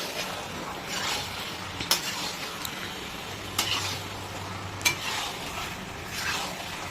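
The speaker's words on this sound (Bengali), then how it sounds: "গ্যাসের ফ্লেমটা দেখুন হাই রয়েছে, ভালো করে ধৈর্য ধরে কষে নিতে হবে।" Chicken being stirred and sautéed in a pan over a high gas flame, giving a low steady sizzle with a few sharp scraping clicks of the stirring utensil, fairly quiet and with no voices.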